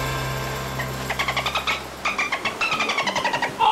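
A dolphin calls in a string of rapid, evenly spaced squeaky clicks and whistles, loud and close, following a low steady hum at the start.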